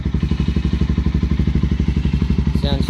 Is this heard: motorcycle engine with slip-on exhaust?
yes